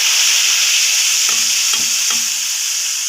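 A hot tempering (baghar) of spiced oil is poured into yogurt kadhi, setting off a loud, continuous close sizzle with a few soft clinks of a spoon or ladle under the hiss.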